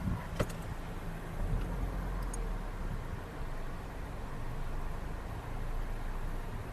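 A 2005 Toyota Kijang Innova G with manual transmission on a test drive, heard from inside as a steady broadband road and engine rumble with a couple of faint clicks early on, no speech.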